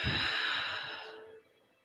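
A single long, deep exhale during yoga breathing, breathy and close, starting with a soft rush and gradually fading out over about a second and a half.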